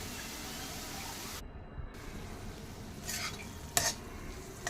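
Amaranth and spinach leaves are stirred and fried in a pan, with a steady close sizzle, scraping strokes and a couple of sharper utensil clinks near the end.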